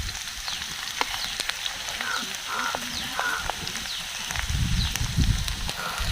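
Onion and kohdauri (badi) frying in hot oil in a kadhai. The sizzle is steady and crackling, with sharp pops scattered throughout and a louder bubbling surge near the end.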